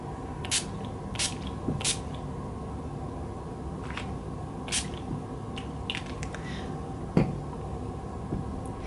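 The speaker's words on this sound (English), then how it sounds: "I'm going to set it with my NYX Dewy Finish Setting Spray" Several short, soft spritzes of NYX Dewy Finish makeup setting spray at irregular intervals, close up over a quiet background, with a faint click partway through.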